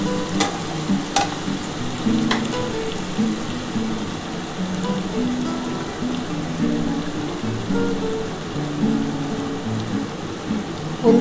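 Fish curry frying in a pan with garlic, tomato paste and chilli powder, giving a steady sizzle under repeated spoon stirring and a few sharp clinks against the pan.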